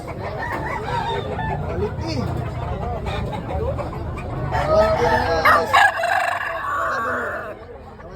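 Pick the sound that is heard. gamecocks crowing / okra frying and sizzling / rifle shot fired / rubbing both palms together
gamecocks crowing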